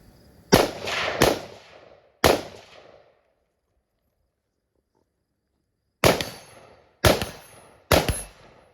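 Six loud, sharp rifle shots ring out in a timed shooting drill, three in quick succession, then a long silent pause, then three more in steady rhythm, each with a short echoing tail.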